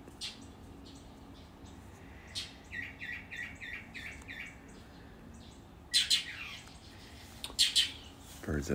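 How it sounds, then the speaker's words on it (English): Birds chirping and squawking outdoors, a steady mix of small tweets over a constant low background hum, with louder, closer calls toward the end. "Birds outside are having fun talking to each other."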